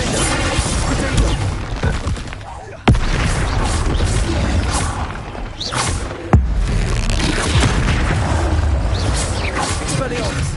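A Confringo blasting curse explodes in a Harry Potter video game, with sharp booming blasts landing twice over a dense, loud wash of game noise and ongoing speech.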